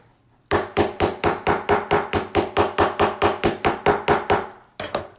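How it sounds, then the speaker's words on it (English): A nylon-head multi-function jewelry hammer strikes metal on a steel block in a steady run of about eighteen evenly spaced, crisp taps, then pauses briefly before one more tap. "I'm gonna take my nylon head and I'm gonna just give it a couple of nice taps"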